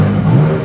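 A Porsche 718 Cayman GT4 engine revs in a tunnel, a loud, sustained low drone that holds steady for under a second with booming reverberation.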